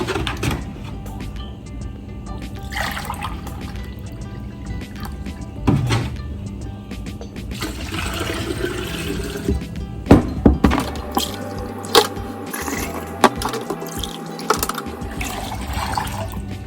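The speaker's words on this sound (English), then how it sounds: "so now I'm gonna add water" Water is poured into a container with a gurgling, filling sound, mixed with clunks and knocks of handling kitchenware.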